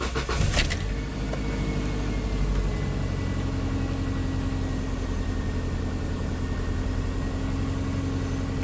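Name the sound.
2004 Subaru Outback engine starting up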